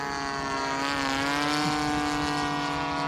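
Small cheap airplane on its first flight, a steady buzzing engine drone with strong harmonic whine, held at an even level and fairly close for the whole stretch.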